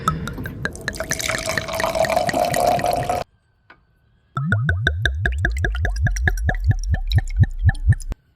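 Fluid is poured into the reservoir of a Suzuki Samurai: a close, gurgling pour runs for a few seconds, then after a short silence comes a rapid series of rhythmic glugs and drips as the container empties, with no talk.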